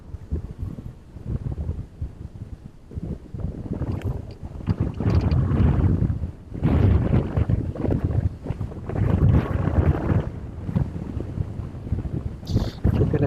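Strong gusts at East Midlands Airport buffet the camera microphone in loud, rough roaring bursts that rise and fall every few seconds, with brief lulls between them.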